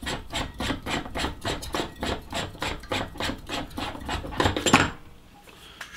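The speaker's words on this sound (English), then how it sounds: "unscrew this off the telescope." A camera adapter being unscrewed from a telescope gives a close, steady run of about a dozen rhythmic scraping, gritty thread clicks that stop abruptly just before the end.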